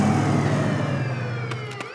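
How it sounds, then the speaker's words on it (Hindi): A cartoon police car siren wails loudly and steadily over an engine rumble, its tone sliding in long sweeps, with a couple of brief sharp clicks near the end and no talking. "अरे बाप रे, ये तो पुलिस का सायरन है।"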